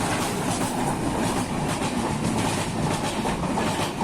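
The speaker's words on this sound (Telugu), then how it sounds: "ట్రైన్ అయితే వెళ్తుంది." A train rumbles steadily past close by at a railway level crossing on the Katpadi–Chittoor line, wheels clattering continuously on the rails without a break.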